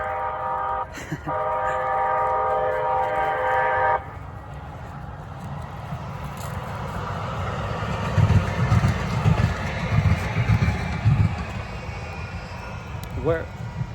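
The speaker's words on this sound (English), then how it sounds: "Damn train." A passing train sounds a loud multi-tone horn for several seconds, then its deep rumbling roar continues steadily with clattering over a wide background wash.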